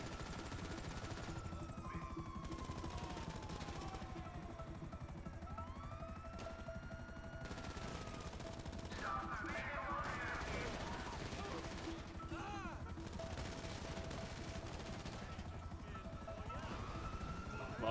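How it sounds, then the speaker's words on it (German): Rapid gunfire in GTA Online comes in a fast, continuous burst during a mission, mixed with game noise and vehicle sounds, while players talk over it throughout. "Ich hab da jetzt schon fast ein Magazin drauf geballert auf den Typen"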